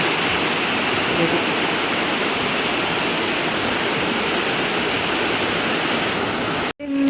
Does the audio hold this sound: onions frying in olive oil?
no